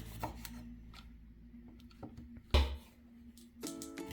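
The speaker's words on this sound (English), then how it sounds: "Now I'm done cutting the green onion." A knife chops green onion on a cutting board in a home kitchen, a few scattered taps and one sharper thud, close and fairly quiet against a low background hum.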